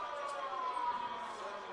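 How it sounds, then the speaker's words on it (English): A siren wails at a high school football field during a game, a steady sustained tone under commentators' talk throughout. "I think the siren is new."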